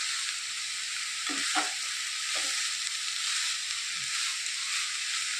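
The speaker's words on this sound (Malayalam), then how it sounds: "ഇനി നന്നായിട്ടൊന്ന് ഇളക്കി യോജിപ്പിച്ച് കൊടുക്കാം." Bitter gourd thoran fries over a high flame with a constant bright sizzle, and a spoon scrapes the pan in a few quick strokes.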